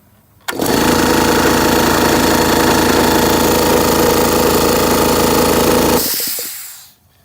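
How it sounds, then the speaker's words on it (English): A loud air compressor motor roars to life abruptly with no load, running at a steady, dense, rattling drone for several seconds before winding down and fading out. "that sound afterwards is the no load start"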